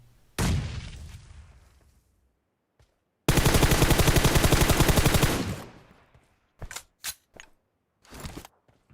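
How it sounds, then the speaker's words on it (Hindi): Gunfire from the PUBG Mobile video game: a loud, close burst of sharp shots, then a long rapid automatic volley, then several short separate bursts. "ऊपर से जो गोली चला रहा होता है उसकी ज्यादातर गोली ज्यादा टाइम सीधा सर पे आके लगती है"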